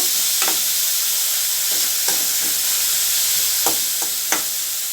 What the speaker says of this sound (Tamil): இப்போ நம்மளுக்கு தக்காளி ஓரளவுக்கு நல்லா வதங்கிடுச்சு பாருங்கள்